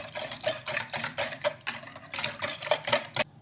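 Dry yeast being stirred into a wet dough mixture in a bowl, a quick, steady rhythm of soft wet sloshing strokes, close and fairly quiet, with no voices.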